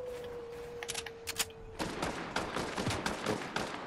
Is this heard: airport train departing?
no